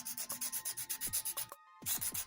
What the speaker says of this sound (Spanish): Lija las zonas que acabas de barnizar cuando se haya secado